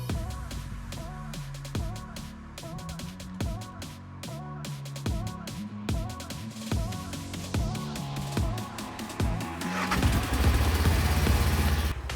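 A Segway Villain 4x4 side-by-side buggy's engine runs on a test drive: a steady droning hum with rhythmic pulsing, swelling into a louder rushing roar near the end.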